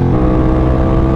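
Ducati Scrambler motorcycle engine on a race track, a loud, steady, close drone with no voices over it.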